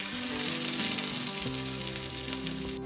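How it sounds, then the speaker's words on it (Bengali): Rosh bora fritters fry in oil over a low flame, giving a continuous close, even sizzle with fine crackling bubbles and no speech. "বেশি লো ফ্লেমে ভাজবেন, বেশি হাই ফ্লেমে ভাজবেন না"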